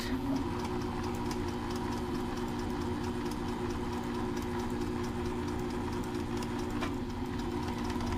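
A sewing machine runs a continuous even hum while stitching a seam on a fabric mask, steady and close, with no talking.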